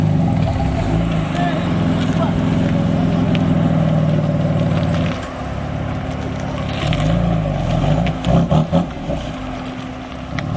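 A BMW engine idles with a low, rumbling drone as the car pulls in at an outdoor car meet, then eases off midway; wind buffets the microphone and people talk nearby.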